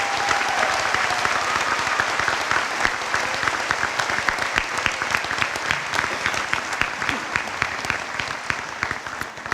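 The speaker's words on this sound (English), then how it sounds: "Please give these scholarship recipients and businesses a round of applause." Sustained applause fills a high school graduation ceremony as scholarship recipients and businesses are honored, dense overlapping clapping from a large crowd, steady and loud throughout.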